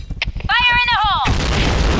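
A grenade goes off in the shooter game Point Blank: a quick burst of gunfire clatter, then a shouted in-game voice line, then a loud explosion boom with a rumbling noisy tail.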